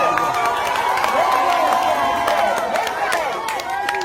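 Spectators at an outdoor boat race event cheer and shout in a dense, continuous crowd roar, with scattered claps mixed into the noisy din throughout.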